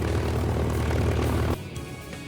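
A steady, heavy drone from the piston engine and propeller of an F4U Corsair, the US Navy's propeller-driven fighter, roars loud and close for a moment, then drops off sharply to a lower, quieter hum.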